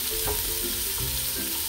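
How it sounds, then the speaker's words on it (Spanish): Diced onion sizzling as it sautés in hot oil for a pumpkin stew, with a steady close frying hiss and a few stirring scrapes. "Y vamos a sofreír"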